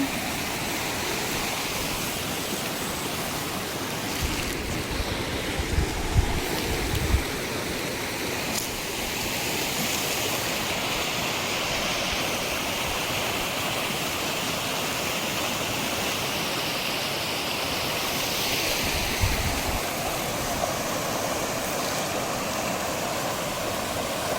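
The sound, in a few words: flowing water near a farm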